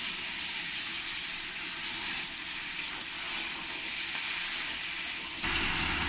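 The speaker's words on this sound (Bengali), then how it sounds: "পেঁয়াজটাকে ভেজে নেব" Onion and tomato sizzle while frying in a pan. The hiss stays steady and fairly loud throughout, close by and alone, with a slight surge near the end.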